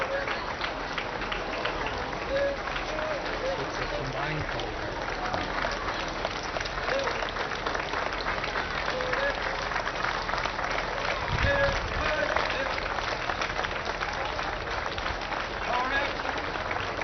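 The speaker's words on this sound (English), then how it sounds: "either applaud the colors as they go by" Crowd lining an Independence Day parade route applauds the passing Color Guard, steady scattered clapping from many spectators heard outdoors, with people talking over it throughout.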